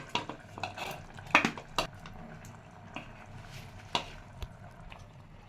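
Pasta in red sauce stirred in a pan with a utensil, giving soft wet squelches and a series of sharp clinks and scrapes against the pan, quiet and close with no talking.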